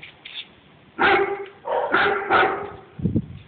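A large white dog on Peak Road, Cheung Chau Island, Hong Kong, barks at walkers on the road in several loud, close bursts of deep barking, with a short yip near the end.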